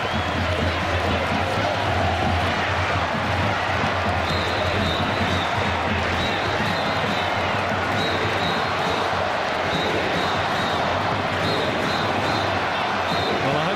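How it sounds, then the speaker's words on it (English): Home crowd at a Newcastle Jets versus Melbourne Victory football match roaring in full voice, a dense continuous wall of chanting and cheering with no break, loud and close. "Picking up the sound of the crowd at home in full voice"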